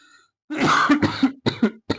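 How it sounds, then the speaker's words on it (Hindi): A close, harsh bout of coughing and throat clearing, several rough bursts in quick succession with brief gaps between them. "खांसी आ गई।"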